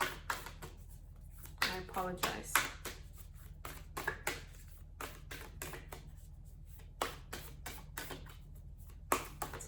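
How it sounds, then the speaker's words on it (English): Tarot cards are shuffled by hand in a series of quick riffling bursts and soft slaps, close and fairly quiet, with a brief spoken apology in between. "They're not very easy to shuffle"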